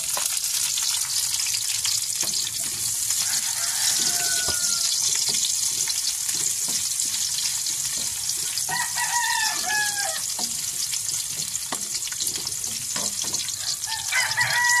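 Onions sizzling in a pan with browned garlic, a steady bright frying hiss running throughout, while a rooster crows and clucks in the background.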